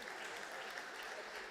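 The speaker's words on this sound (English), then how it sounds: "can people clap hands also?" Hall audience clapping at a public hearing on a veld and forest fire bill in Thohoyandou, a steady dense patter of many hands filling the room without a break.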